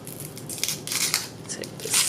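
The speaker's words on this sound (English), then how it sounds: "I'm gonna cut the ends off, and then I'm gonna just take that skin off" Kitchen knife slicing the ends and peeling the skin off a vegetable for a vegan cheese sauce, a run of close crisp cuts and scraping crunches over about two seconds, with no talking.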